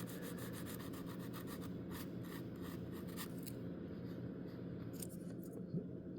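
Repeated scratchy rubbing strokes sanding excess paint off a small U.S.S. Enterprise D model, close and steady, with a faint background hum.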